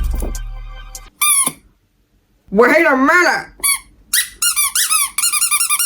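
A rubber toy duck squeaks in a few short, sharp bursts as it is squeezed, with someone talking close by between and over the squeaks.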